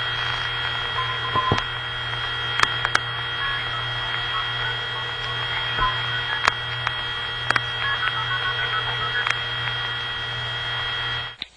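Vintage telephone network line tones from an operator-dialed 0-plus TSPS call, a steady faint hum and tone with scattered short clicks and pulses, ending in an abrupt cutoff.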